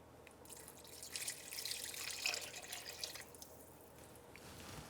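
Fish stock pours into a cooking pot for cioppino, a steady splashing trickle of liquid that swells in the middle and tapers off, close and moderately loud with no talking.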